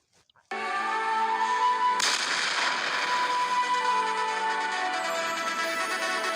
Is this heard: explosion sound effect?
yes